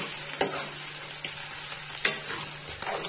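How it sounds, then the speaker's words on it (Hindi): Boiled potatoes fry on a low flame, making a soft continuous sizzle broken by a few sharp scrapes of a spoon against the pan. "अब हम इसको फ्रेंड्स फ्राई करते रहेंगे, हम लो फ्लेम पर ही इसको फ्राई करेंगे फ्रेंड्स।"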